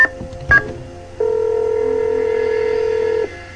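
Telephone keypad dialing in a Nancy Drew video game: a couple of quick touch-tone beeps, then one sustained dual-tone note held for about two seconds, clear and close with no talking.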